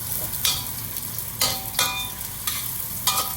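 Shallots frying in hot sunflower oil, with a steady sizzle broken by several louder bursts of stirring and scraping in the pan, close and fairly loud, no talking.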